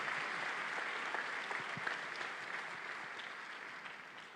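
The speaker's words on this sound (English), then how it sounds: "Please keep clapping until she gets here." An audience at a memorial service keeps up continuous applause as a First Lady arrives, heard fairly faint and distant, a steady wash of clapping with occasional sharper claps standing out.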